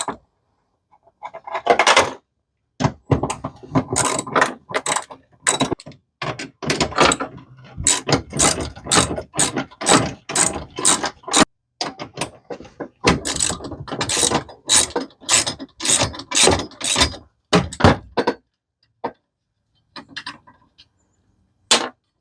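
A hand ratchet backs out the four 13 mm bolts on the lower dashboard brace of a Ford Crown Victoria, Grand Marquis or Town Car, with rapid clicking bursts broken by short pauses, close and loud.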